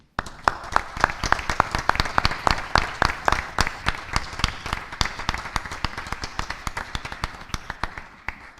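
Meeting audience applauds for a student role model being recognized: many distinct hand claps, a steady dense patter that stays fairly close and gradually thins toward the end.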